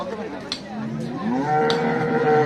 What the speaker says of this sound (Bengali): গরু একটি গরু আসছে।